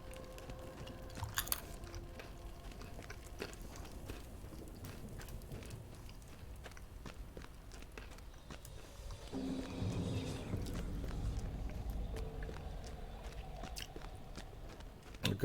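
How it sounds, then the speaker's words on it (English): Crunchy nuts being chewed close up, giving a steady run of crisp bites and grinding with no talking over it. "However, I do have crunchy and delicious nuts."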